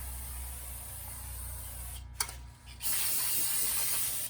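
Brake cleaner aerosol sprays onto a brake rotor with a sharp, steady hiss close by, broken by a brief pause and a click, then resuming in a strong continuous burst.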